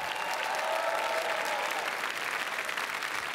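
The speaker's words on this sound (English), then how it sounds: "Je voudrais qu'on applaudisse très fort le metteur en scène Jean-François Richer" At the Cannes 2016 red carpet for Blood Father, a large audience applauds director Jean-François Richet with steady, dense clapping that holds at an even level throughout.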